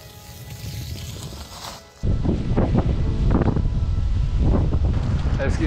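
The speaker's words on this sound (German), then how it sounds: "Es ist immer noch windig." Gusty wind on a farm on a rainy day buffets the microphone with a broad rushing roar that surges, briefly eases, then returns strongly.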